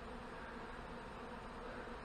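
A cloud of honey bees flies around their hive and over a deck, producing a continuous, even buzzing drone without pauses or voices.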